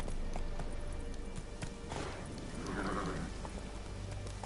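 Roach the horse gallops in The Witcher 3, its soft hoofbeats half buried under steady rain and a dense ambient wash, heard at a moderate distance.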